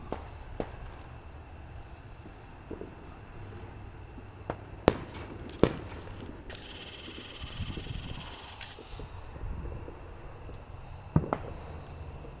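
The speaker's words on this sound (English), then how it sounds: "watch all the beautiful fireworks" Fourth of July fireworks exploding in the distance, a few scattered sharp pops and bangs spread unevenly over a low outdoor background hum.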